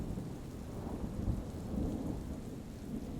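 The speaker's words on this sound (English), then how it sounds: "the serene sounds of a thunderstorm" A thunderstorm rolls on with steady rain pattering on surfaces and a low, deep rumble of thunder underneath, soft and even throughout.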